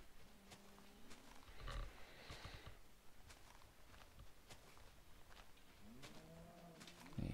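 Minecraft cows moo in low, drawn-out calls, one near the start and another cluster near the end, set against a constant hiss of game background noise with no talking.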